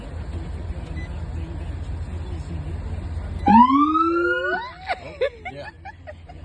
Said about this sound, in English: Want to hear the siren?